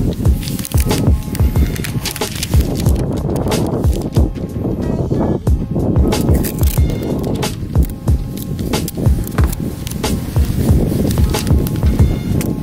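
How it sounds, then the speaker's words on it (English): Wind buffets the microphone continuously with deep, rumbling gusts that rise and fall throughout. "Now it's windy."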